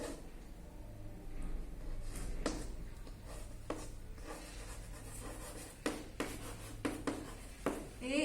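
Pen writing on paper, soft close scratching and rubbing strokes with occasional taps and pauses, quiet and without talk.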